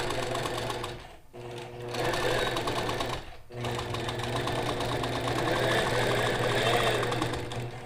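A sewing machine stitching with a quilting ruler, running in a loud, steady mechanical buzz with two brief pauses where the motor stops and restarts, no voices.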